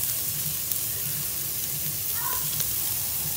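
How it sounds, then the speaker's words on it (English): Food sautés in butter in a pan with a steady close sizzle and a few faint clicks and stirring sounds, without any voices. "with butter, saute in the butter,"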